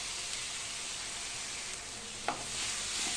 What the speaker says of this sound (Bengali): এবার এর মধ্যে দিয়ে দেবো আদা রসুন বাটা,